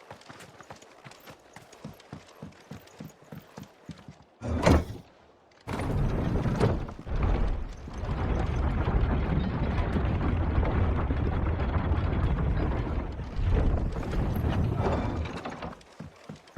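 Horses gallop in Final Fantasy XVI, a rapid run of clip-clop hoofbeats that gives way to heavy rumbling and mechanical rattling, fairly close, with no talk.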